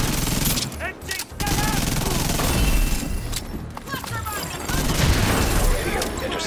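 Dense, sustained bursts of gunfire in the video game The Division 2, with explosive booms and ricochet-like chirps, loud and continuous throughout, with voices briefly under the chaos.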